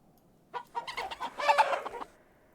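Chickens cluck in the video game Book of Hours, a short burst of several close, clear clucks lasting about a second and a half against quiet.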